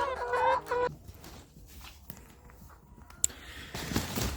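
Backyard chickens in a rural Korean coop cluck and gobble near the microphone in a short burst, followed by quieter scattered clucks, rustling and a sharp click amid background noise.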